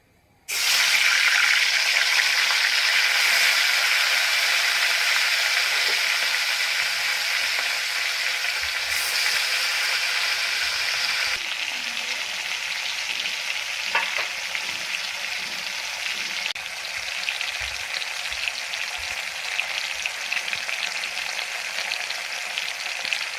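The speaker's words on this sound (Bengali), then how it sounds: "এবার মাছগুলো ভেজে নিচ্ছি" Shol fish frying in hot mustard oil in a kadai, a loud, steady sizzle that starts abruptly and stays strong throughout, gradually settling a little, with no voices over it.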